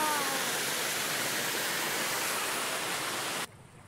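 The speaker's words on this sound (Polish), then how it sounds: "Widzę wodospad. Tak? Strasznie szumi, co?" A large waterfall roars as a loud, steady broadband rush of falling water, constant and close, cutting off abruptly near the end.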